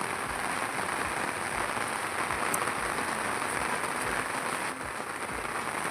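Heavy rain pours over waterlogged cotton and groundnut fields on a Gujarat farm, a dense steady hiss of drops that stays loud and even throughout, with no talking.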